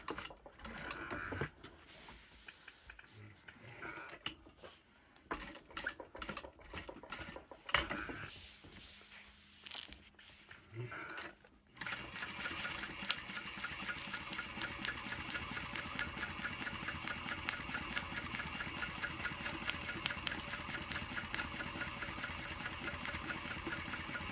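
A sewing machine stitches a handbag, starting with short stop-start bursts and back stitches, then settling into a loud, steady, continuous whirring run for the latter half.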